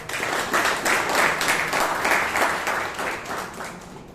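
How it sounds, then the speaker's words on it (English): Applause at a Toastmasters club meeting in Bangalore, a dense, loud burst of clapping from a room audience, steady and then tapering slightly. "huge round of applause, please"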